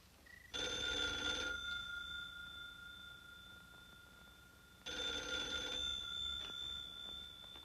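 An old-fashioned telephone bell rings in two loud, sustained bursts of about a second each, separated by a pause, in a Hollywood movie scene about a bank robbery.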